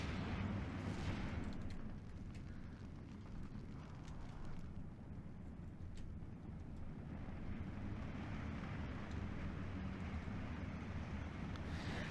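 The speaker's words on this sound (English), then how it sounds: "My mortars and Werframen are definitely doing some damage" Low, rumbling artillery and mortar fire from the wartime strategy video game Steel Division 2, a steady dull roar of distant booms with scattered sharper reports, fairly faint throughout.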